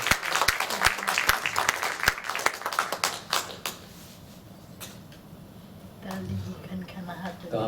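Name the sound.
audience applause at a Hindi poetry event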